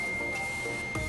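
A multimeter's continuity buzzer sounds during a no-power repair of a Samsung UA55HU7200R television, giving one steady, unbroken high-pitched tone that holds for about a second over faint room noise.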